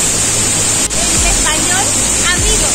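Anguirú stream waterfall at Saltos del Monday near Ciudad del Este, about 35 metres high, a loud, constant roar of falling water heard close up, with a brief voice faintly under it.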